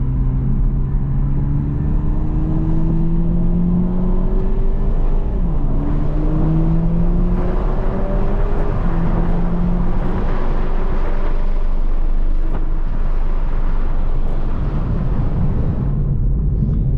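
A Toyota Mk5 Supra accelerates on a Miami highway, its engine note climbing steadily through the gears with loud, continuous revving and brief dips at each shift, all under steady road and wind roar.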